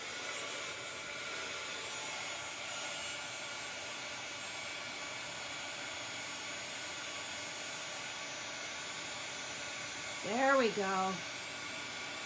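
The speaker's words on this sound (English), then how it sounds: "My heat gun does have the dual heats" Dual-heat heat gun blowing on its high setting, a steady loud whooshing hiss filling the whole stretch, with a brief spoken remark near the end over the airflow.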